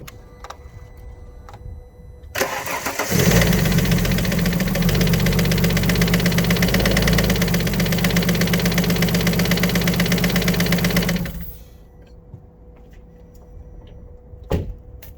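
An Alfa Romeo 147 GTA engine cranks and fires at about two seconds, then runs loud and steady with a knocking fault noise for roughly nine seconds before shutting off. A faint click follows near the end.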